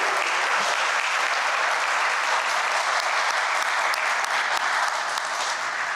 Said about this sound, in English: let's give them a little round of applause for the work they do